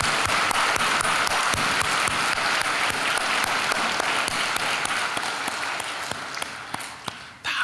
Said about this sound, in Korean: 우리 할렐루야 찬양대를 위해서 박수 한번 하겠습니다.